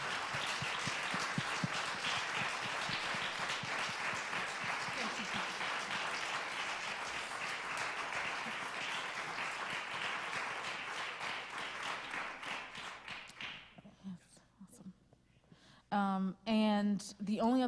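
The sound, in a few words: audience applause for the storytellers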